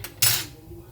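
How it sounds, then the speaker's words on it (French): A single metallic clink of a utensil against a saucepan of chorba soup rings out sharply, followed by a faint scrape, close and quiet. "on remue toujours, hein, sinon ça va coller au fond de votre casserole"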